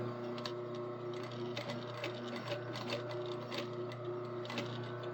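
A sewing machine runs steadily, stitching an overlapping seam with a constant mechanical whir and rapid needle rattle, close and alone with no talk.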